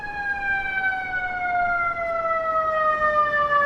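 A loud fire truck siren on a Brooklyn street holds a steady wailing tone with a slowly falling pitch, close by and continuous throughout.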